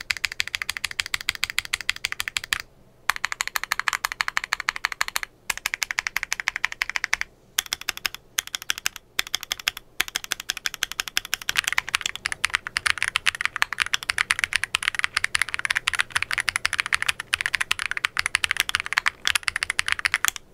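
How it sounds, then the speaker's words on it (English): Continuous rapid typing on an Epomaker Tide75 mechanical keyboard in stock, out-of-the-box condition: dense, crisp keystroke clacks close to the mic with a few brief pauses between bursts and no voices. "here's a quick typing sound test right out of the box"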